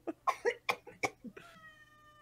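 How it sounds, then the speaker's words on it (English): A cartoon cat in a Kingdom Hearts trivia game lets out a string of thin, pitiful meows in quick succession, five or six short cries followed by a fading tonal tail, fairly close and alone. "He has such like the most pitiful meow"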